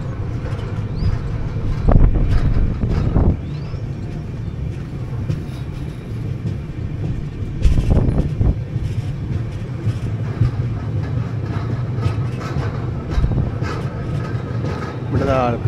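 The 16218 Shirdi Mysuru Weekly Express rolls along with a steady low rumble, wind buffeting and occasional louder clanks and thumps from the carriages.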